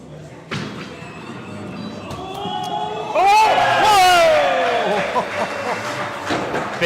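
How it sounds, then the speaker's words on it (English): A crowd at a live skittles match cheers and applauds after the final pin falls, a loud burst of mixed voices and clapping that swells, then slowly fades. "Big round of applause when that final pin went over there."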